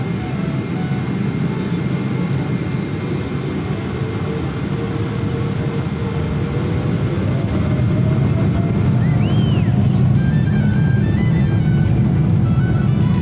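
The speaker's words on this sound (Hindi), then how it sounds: "टेक ऑफ के लिए जहाज़ इस टाइम भाग चुका है।" An Emirates Airbus airliner accelerates down the runway for takeoff, heard from inside the cabin as a steady, loud engine roar and rumble building slightly, with faint rising whines and clicks over the drone.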